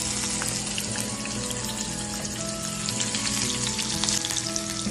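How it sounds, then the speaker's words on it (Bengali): Chopped green chilli and garlic sizzle and spit in hot mustard oil in a pan, a dense, continuous frying crackle close by with no talking. "কুচিয়ে নেওয়া কাঁচা লঙ্কা আর রসুনের মিক্সটা আমরা অ্যাড করব ফোটানো সরষের তেলে।"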